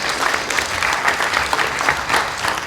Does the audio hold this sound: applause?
yes